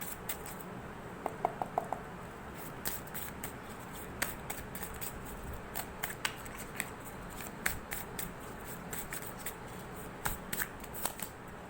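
Tarot cards are shuffled and drawn in a quiet room, giving soft riffling and sharp, scattered card snaps and flicks at close range, faint overall, with no talk.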